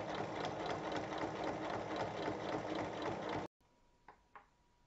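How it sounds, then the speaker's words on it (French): A sewing machine runs steadily, topstitching along fabric seams with a rapid even mechanical chatter, then stops abruptly, followed by a couple of faint clicks. "On fait une surpiqûre de chaque côté des coutures."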